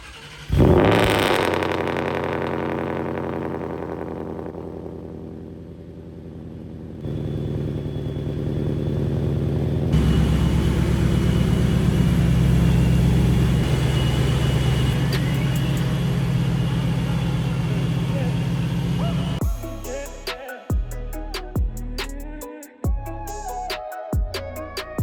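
A supercharged car with headers, factory resonator and stock exhaust pipes starts on a cold day, settles into a loud idle, then barks through several sharp revs close by.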